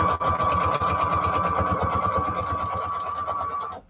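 A sewing machine runs steadily under foot-pedal speed control, a close, loud rapid needle chatter over a motor whine, cutting off abruptly at the end.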